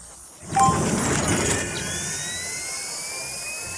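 A whooshing mechanical sleigh engine roars up suddenly, then settles into a steady whine with a rising high tone.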